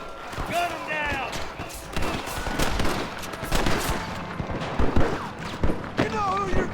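Gunfire in a Red Dead Redemption shootout against rustlers, with repeated sharp shots and bursts cracking out in quick irregular succession over several seconds while a voice talks over the fight.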